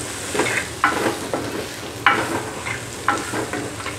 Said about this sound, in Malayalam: ഇനി അതെല്ലാം കൂടെ നമുക്കൊന്ന് വഴറ്റാം.